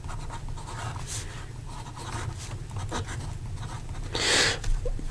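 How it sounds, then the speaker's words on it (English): Medium 21-karat gold nib of a Sailor King of Pen Pro Gear fountain pen scratching across paper, close up with soft, continuous strokes and a brief louder scrape near the end, over a low background hum. "So here we go with the writing sample for the Sailor"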